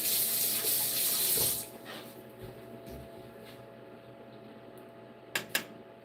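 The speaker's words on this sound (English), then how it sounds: "I gotta rinse off the spoon before I take another bite" Tap water runs loudly while a spoon is rinsed in a kitchen sink, then shuts off, leaving a quiet room hum and two sharp clinks of the spoon near the end.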